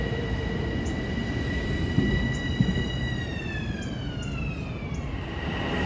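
Long Island Rail Road commuter train arriving at Woodside station during the evening rush, a steady loud rumble of wheels with high sustained squealing tones that glide downward as it slows, no voices.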